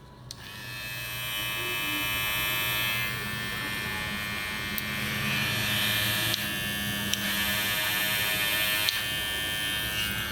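Babyliss LithiumFX cordless hair clipper running steadily at close range, a continuous high-pitched motor whine with a low buzzing hum and brief small clicks, unbroken for the whole stretch with no voices.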